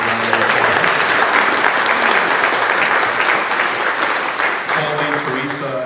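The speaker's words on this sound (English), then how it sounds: "Could we give them a round of applause?" Audience at a live outdoor music festival announcement giving sustained, loud applause and cheering for the hosts, a dense wash of clapping that continues for several seconds while a voice talks over it near the end.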